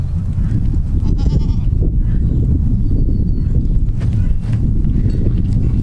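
Kiko meat goats on a farm bleat in a steady, dense chorus of low calls with occasional higher cries, close and loud throughout, with muffled livestock shuffling and faint voices.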